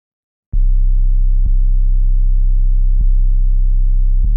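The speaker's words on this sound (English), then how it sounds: "when you play your bass, it keeps looping" A looping synth bass in a music production sustains continuously with a steady low tone, retriggered by a few sharp attacks at irregular intervals, loud and alone without any voices.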